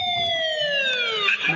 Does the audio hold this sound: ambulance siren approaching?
yes